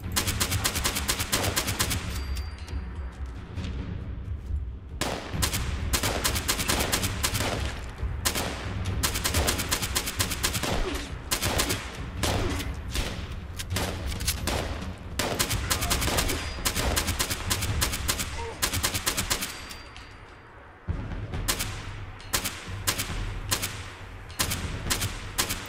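Sustained gunfire in the game Fallout 76, including an SMG: loud, dense automatic bursts rattling almost continuously for the whole span, easing briefly near the end before resuming.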